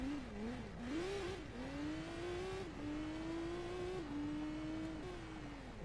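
Race car engine in Gran Turismo 2 revving steadily through the gears, a continuous droning whine that climbs and drops at each shift, loud and alone with no talk.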